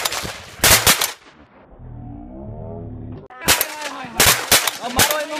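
Repeated gunshots crack out during duck shooting in Pakistan, a quick burst of several loud shots, then a lull with a distant tonal hum, then another volley of sharp close reports.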